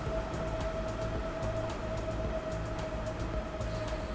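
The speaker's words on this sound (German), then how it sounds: "S-Bahn-Betrieb, einfahrende Züge, ausfahrende Züge." Trains entering and leaving an S-Bahn station in Transport Fever 2, a continuous rail rumble under a steady tonal hum, with faint repeated clicks running through it.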